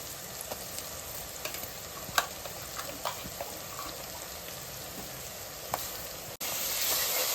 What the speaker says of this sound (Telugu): ఉల్లిపాయ వేగిపోయింది కదా, మసాలా వేసేస్తున్నాను